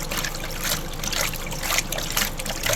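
Water pours into a container for a rain gutter grow system mix, a close, continuous splashing trickle with uneven surges throughout.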